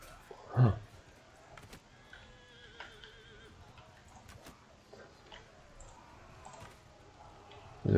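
A warhorse neighs during a cavalry charge in the game Mount and Blade 2, a single loud whinny near the start over quiet battle ambience with faint clicks, hoof clops and occasional low voices.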